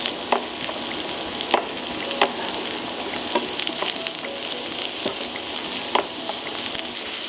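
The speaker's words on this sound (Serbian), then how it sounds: "dodajem pečurke i pržim ih dok ne budu gotove" Mushrooms and onion fry in a pan with a steady, close sizzle, broken by sharp clicks and scrapes of stirring at irregular intervals; no one speaks.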